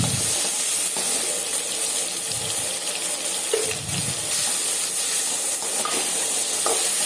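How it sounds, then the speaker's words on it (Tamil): Onions and tomatoes sauté in a pan for kara chutney, a steady, loud hiss of frying with occasional soft stirring scrapes throughout and no speech. "கொஞ்சம் வதங்கி வந்த உடனே அதில் கொஞ்சம் உப்பு போட்டு தக்காளியும் போட்டு நல்லா வதக்கணும்."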